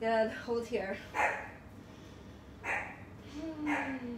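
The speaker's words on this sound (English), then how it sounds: "that's my dog" A dog barks and yips a few times close by during a home vinyasa yoga class, short sharp bursts mixed in with an instructor's spoken cues.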